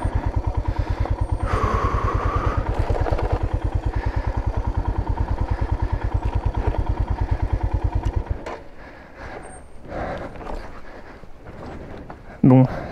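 A motorcycle descending a steep slope in Jordan, slowing with the clutch, its engine thumping in a steady, loud, close rhythm for about eight seconds before dropping to quieter rattles and clunks.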